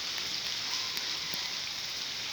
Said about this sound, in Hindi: बारिश ज़्यादा है इसलिए इतनी वीडियो काफ़ी है।